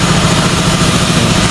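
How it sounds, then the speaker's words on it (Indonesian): A milling machine running in a factory workshop gives a loud, steady mechanical drone with constant low hum and broadband noise, uninterrupted and close throughout. "Mesin milling namanya. Ya mesin milling ini."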